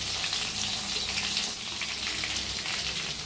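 Cumin seeds and crushed garlic hitting hot oil, a dense steady sizzle and crackle that holds level throughout, close and clear.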